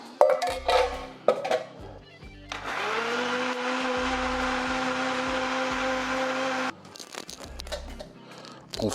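A kitchen blender purees guarillo chili with its soaking water in a sustained, loud whirring run of a few seconds, framed by clattering and handling of kitchen equipment.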